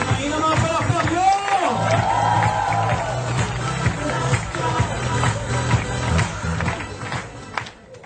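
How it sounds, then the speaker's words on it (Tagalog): An audience at a corporate event applauds and cheers as a speaker walks on, a loud dense wash of clapping and shouts with talk and movement mixed in. "Ayun ang mga palakpak nyo!"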